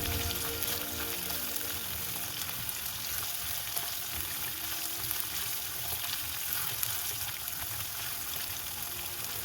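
Garam masala and coriander powder paste sizzling in oil for palak paneer curry, a continuous loud fry with faint scraping as it is stirred, no talking.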